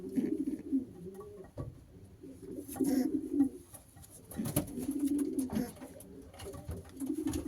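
Breeding pigeons coo repeatedly in a loft, low throaty rolling calls in overlapping bursts that are fairly close, with light shuffling and patter between them.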